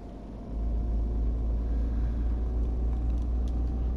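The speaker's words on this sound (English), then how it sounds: "The lorry even sounds different." In the OnTheRoad truck-driving game, a lorry engine and road noise swell into a constant low rumble after a brief quieter moment, steady and close, with no speech.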